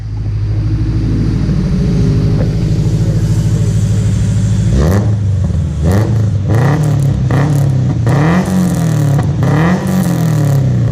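Loud, close Volvo 740 redblock engine with individual throttle bodies idles roughly, then revs sharply several times with a raspy, throaty intake howl rising and falling between blips.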